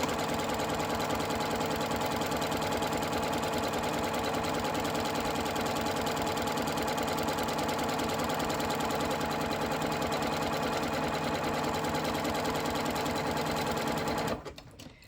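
A sewing machine runs steadily for about fourteen seconds, stitching the fabric of a drawstring bag with a dense, even motor whir that stops abruptly at the end.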